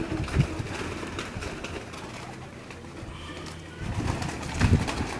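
Pigeons coo on a rooftop in Kasur, their low throaty calls rising in bursts at the start and end against steady outdoor background noise.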